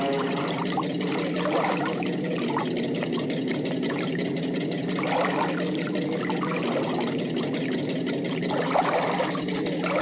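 Soap bubble solution pours steadily into the compartments of a cartoon tanker ship, a continuous watery trickle and splash that runs alone and evenly throughout.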